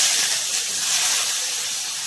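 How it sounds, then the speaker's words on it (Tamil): Chopped onion hitting hot oil with asafoetida for a Tamil banana-stem stir-fry, giving a loud, steady bright sizzle and hiss that holds throughout with no talking. "இப்போ நம்ம கட் பண்ணி வச்சிருக்க வெங்காயம் சேர்த்துக்குவோம்"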